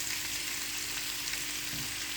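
Meat browning in a frying pan for adobong balatong, a steady close sizzle with a constant hiss and no voices over it.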